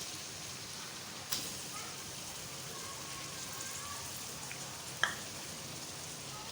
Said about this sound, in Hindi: मटन की अच्छी तरह से भुनाई करें